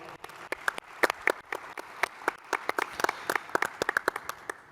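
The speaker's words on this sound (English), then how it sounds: "Let's give them a big round of applause." Applause from a conference panel audience, a modest, somewhat sparse patter of individual claps that stays fairly close and even for several seconds with no talking over it.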